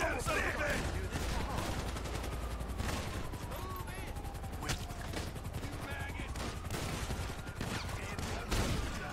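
Shotgun fire in a video game, with sharp blasts and bursts of gunfire repeating over a dense, noisy battle background at moderate level.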